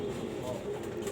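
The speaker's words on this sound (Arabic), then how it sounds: "ها فرد حمام" A pigeon coos softly in a low, continuous murmur amid a hum of background noise, heard for just over a second with no distinct separate calls.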